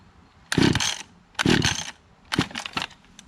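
A small engine on a trimmer, set on choke, sputters through three short rough bursts under attempts to start it, cutting out between each try without catching.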